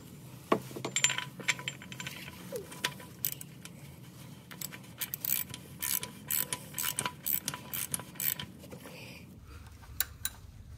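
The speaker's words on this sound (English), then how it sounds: "Now I'm just gonna thread this cup back into how it's supposed to be." Oil filter cap being threaded back onto a Lexus RX350 during an oil change, a close series of faint irregular plastic clicks, ratcheting ticks and small metallic clinks, quiet between bursts.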